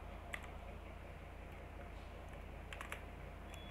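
Soft computer keyboard typing, with scattered faint key clicks over a low steady hum in a quiet room.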